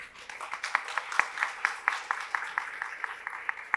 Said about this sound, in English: Can you give a big applause to him?